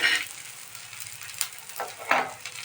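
Four or five garlic cloves are added to a pan of roasted green chillies for chilli thecha, giving a few scattered crackles and soft sizzles with light stirring scrapes, faint and close.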